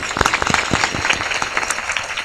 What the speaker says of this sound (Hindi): ताली बजाओ अमरनाथ।